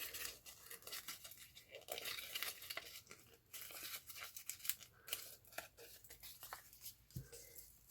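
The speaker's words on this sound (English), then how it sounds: "I'm just going to crumple this up a bit at this side." Faint, close crinkling and rustling of a paper music page being crumpled along one edge, with irregular scratchy bursts and no speech.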